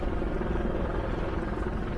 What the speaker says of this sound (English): Oh, I know there's helicopters because of the football game.